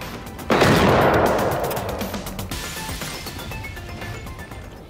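A loud close gunshot in Generation Zero, with a sharp blast and a long rolling decay, a few faint shots and clicks behind it, and a quick hit at the very end.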